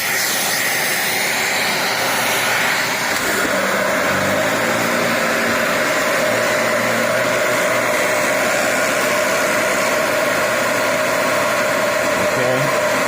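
Used yellow Dyson Ball Multi Floor 2 upright vacuum, model UP19, running close and loud: a constant high whining roar with a deeper motor tone settling in after a few seconds, steady to the end without talk.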